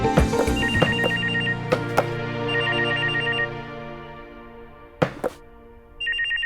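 A telephone rings in trilling bursts over a low hum, with a few sharp thumps between rings, part of a dramatic TV scene with a call from an accountant.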